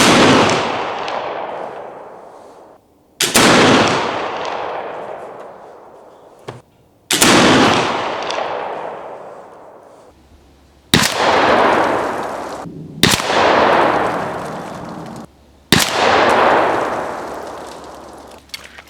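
Six sharp flintlock rifle shots fired at long range, spaced several seconds apart, each a loud crack followed by a long, fading rumble rolling out across open ground, with no talking.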